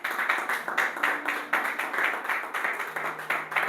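A church congregation claps along in steady rhythmic bursts, dense and fairly close, with a faint sustained tone beneath and no clear talking.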